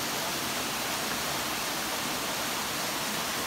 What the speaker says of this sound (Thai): ก็คือน้ำตกผางามงอนนะ